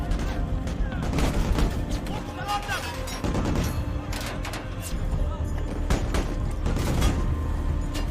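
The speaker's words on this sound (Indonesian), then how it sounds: "setelah mendapatkan instruksi dari Masruri, seluruh pasukan cepat tanggap maju serentak dan baku tembak pun kembali terjadi" Dense battle gunfire from a war film ambush scene, with bursts of rifle and machine-gun shots and booms crowding together throughout, loud and continuous, mixed with shouting and score underneath.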